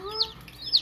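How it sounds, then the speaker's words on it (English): Chickens give a couple of quick, moderately quiet clucks in under a second, with nothing else competing. "Lincoln, what do you think about the chickens"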